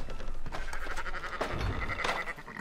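Sheep bleating on a ranch in Red Dead Redemption 2, several overlapping close-range bleats over a busy, steady background of game ambience, with no talk.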